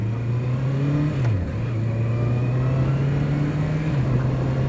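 A 2024 Honda CB650R motorcycle with E-Clutch pulls hard, its engine note climbing, then dips briefly through a gear change and climbs again, steady and close with wind rush beneath.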